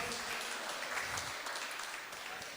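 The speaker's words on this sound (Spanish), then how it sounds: "aplauso para el hermano Osvaldo" Brief round of applause at a Bible class in honour of brother Osvaldo, steady dense clapping from a small group filling the short stretch without pause.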